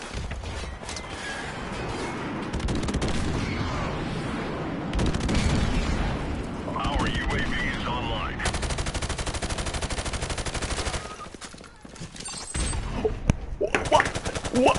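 Rapid automatic gunfire bursts and booming grenade explosions fill a video-game firefight, loud and dense for most of the stretch, dropping briefly before scattered shots resume.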